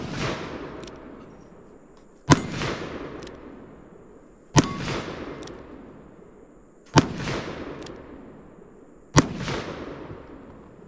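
Black powder pistol shots at a shooting stage, four sharp loud reports evenly spaced about two seconds apart, each followed by a long fading boom and echo, heard from nearby.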